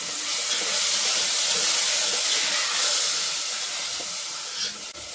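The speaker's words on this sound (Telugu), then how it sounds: "ఈ బియ్యాన్ని కూడా గిన్నె వేసుకొని ఫ్రై చేసుకోండి" Continuous loud hissing sizzle of washed rice frying in a hot pan, steady and close, with a faint clink near the end.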